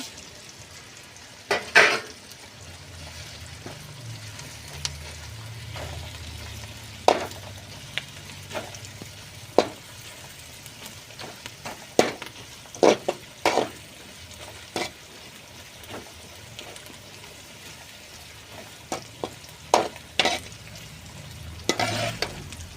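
Dried red chilies and onions sizzle in oil for chicken pallipalayam, a low steady frying hiss punctuated by sharp spoon knocks and scrapes against the pan at uneven intervals.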